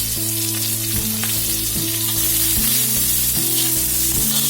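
Green chillies and chopped onion fry in a pan with ajwain, giving a steady, close crackling sizzle under a background of soft tonal music.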